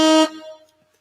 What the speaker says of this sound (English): Let me go ahead and give an air horn for y'all